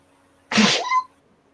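A single sharp sneeze bursts out close and loud, lasting about half a second with a brief vocal tail, in an otherwise quiet indoor room.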